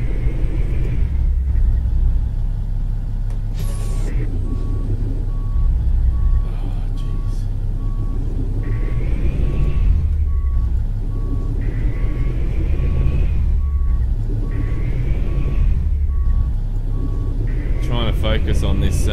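A truck in Euro Truck Simulator 2 backs a trailer, its reversing alarm beeping in a steady, evenly spaced series over a constant engine rumble. Someone talks throughout.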